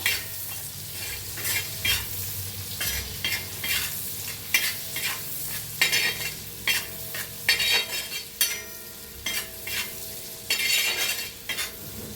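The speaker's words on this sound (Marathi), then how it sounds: "कांदा छान असा भाजून घ्यायचा" Finely chopped onion stirred and fried in a pan for an egg curry, a steady sizzle under repeated scraping strokes of a spatula, close and continuous without speech.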